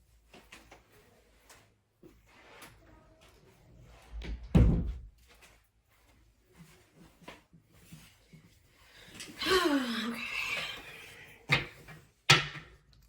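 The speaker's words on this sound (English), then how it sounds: "I gotta close the door." A door swings shut with a loud, low thump in a quiet indoor room, followed by softer shuffling and a few knocks and rustles, with no talking.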